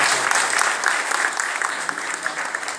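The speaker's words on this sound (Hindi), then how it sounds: "एक बार जोरदार तालियों से" Crowd applause at a gathering in Uttarakhand, India, a thick, sustained wash of many hands clapping close by, slowly tapering toward the end with no speech over it.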